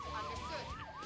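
Wailing ambulance siren from the Emergency HQ rescue-management video game, sweeping up and down in smooth repeated arcs over a low vehicle rumble, loud and steady throughout.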